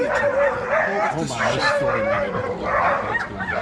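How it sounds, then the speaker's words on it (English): A neighbor's dog outside gives yipping barks and whimpers, heard beneath people talking close by. "The neighbor's dog is outside."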